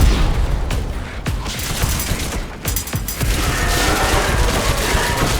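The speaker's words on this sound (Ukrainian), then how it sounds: "Ох, це що, турель якась?" A turret in the shooter game Scathe fires a loud, dense, continuous barrage, its sustained rattling bursts broken by a few heavier booming hits.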